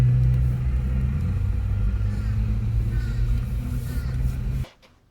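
Car idling and rolling through a fast-food drive-through toward the last window, a steady low engine rumble that cuts off abruptly near the end.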